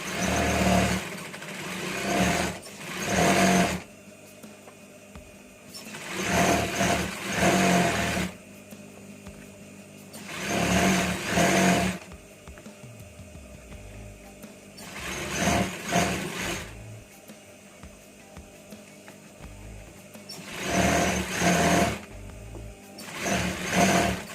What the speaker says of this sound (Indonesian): bagian bawahnya itu kita jahit lagi antara sambungan rib ya dengan badan, masih menggunakan sepatu yang sama ya